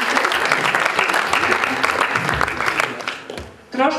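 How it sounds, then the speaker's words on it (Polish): A small club audience applauds a few brave volunteers called up for a contest, with dense, steady clapping and some voices mixed in, fading briefly near the end before picking up again. "tak, oklaski dla nich"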